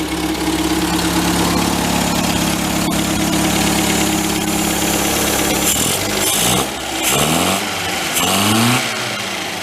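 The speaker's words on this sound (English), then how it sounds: "So give it a rev, see if it pops back." A 1953 MG TD barn find engine idles steadily and loud, then gets revved in several rising and falling bursts toward the end, the pitch sweeping up and dropping back each time.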